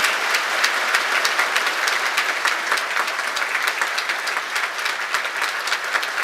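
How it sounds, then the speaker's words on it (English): A graduation-ceremony audience applauds the anthem singers with steady, dense clapping from many hands that fills the hall evenly throughout, without voices. "Won't you all turn around and face our guests and take the"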